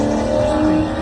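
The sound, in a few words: cars racing and revving on the interstate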